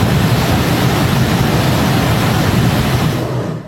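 Floodwater surges after a cloudburst in Jammu and Kashmir, a loud, steady roar of rushing water that fills the whole span and fades slightly at the very end.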